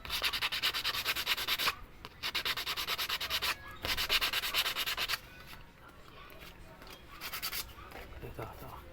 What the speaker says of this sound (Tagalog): Lihain natin.